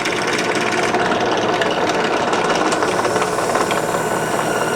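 An OTP roll crimper spins up to crimp and taper a shotgun shell hull, giving a steady, loud, continuous mechanical whir with a dense, even texture.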